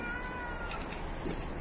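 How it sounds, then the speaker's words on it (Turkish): A cat meows in a short, close call that stands alone with no talk. "Aba nasıl güzel miyav diyor."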